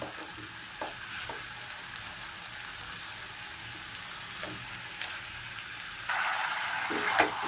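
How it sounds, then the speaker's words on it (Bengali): Small lote fish frying in a pan with potato, a soft continuous sizzle with a few spatula taps, rising to a louder crackle near the end. "এবার আমি লোটে মাছগুলো দিয়ে দেবো।"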